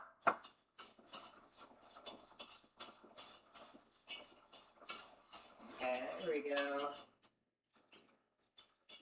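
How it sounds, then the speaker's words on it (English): Cream whisked into a pan for mac and cheese: rapid metal whisk clinks and scrapes against cookware, fairly quiet and close, with a short burst of voice partway through. "As we slowly add the cream in, whisking until smooth and consistent."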